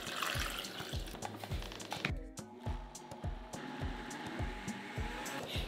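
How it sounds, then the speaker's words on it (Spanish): A kitchen blender whirs steadily as it blends cabbage with three cups of water for tortilla dough, with a pulsing mechanical rhythm and a watery churn, close and fairly loud throughout. "Llevamos a licuar con tres tazas de agua."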